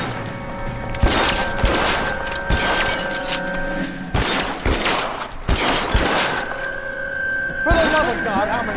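Gunshots in the L.A. Noire video game during a shootout, a series of sharp loud cracks at irregular intervals over game music, with a person talking between shots.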